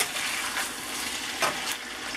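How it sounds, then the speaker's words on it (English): Potatoes for home fries sizzle in hot oil, a close, busy crackle and hiss with a few brief louder pops, no voices. "I'm going to go ahead and let that start to frying and getting hot,"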